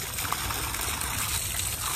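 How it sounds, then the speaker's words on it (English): Fresh water trickles and splashes steadily from a park drinking fountain for a German Shepherd, a close continuous stream with no voices. "About to give Odin some fresh water at the park"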